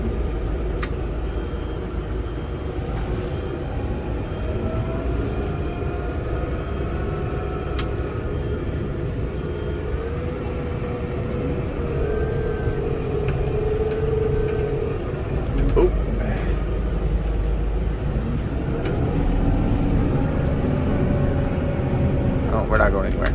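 A vehicle engine drones and revs steadily as wheels spin in snow, a continuous loud rumble with rising whines, while people talk over it.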